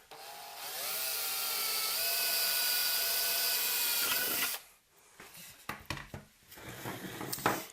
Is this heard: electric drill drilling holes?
yes